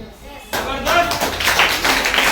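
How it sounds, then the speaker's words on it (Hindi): An audience clapping at a business network achievers' event breaks out suddenly after a brief pause and swells into dense, loud applause that runs to the end, with some voices mixed in. "एक जबरदस्त तालियां मेरे भाई करूं"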